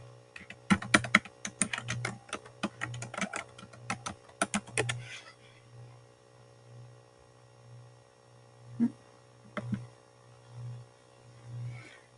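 Computer keyboard typing a book title into a search box, a quick burst of clicking keystrokes for the first five seconds, then a couple of isolated key taps over a steady low electrical hum.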